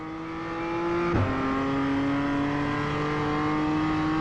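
A BMW M2 CSR race car engine in iRacing lapping Portland International, a steady loud drone that rises in pitch, with a brief thump as the gear changes before the revs climb again.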